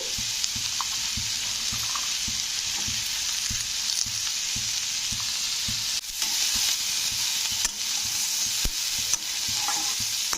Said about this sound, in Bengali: এবারে আমি এর মধ্যে দিয়ে দেবো গাজর তো গাজরগুলো দিয়েও কিন্তু একটু নাড়তে হবে